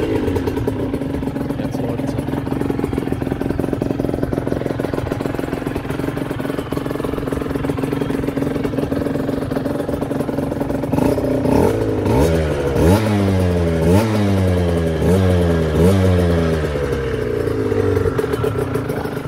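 An Aprilia RS 125 motorcycle, already warmed up, idles steadily with a busy two-stroke clatter, then is revved repeatedly in sharp rising and falling bursts; close and loud, with no talk.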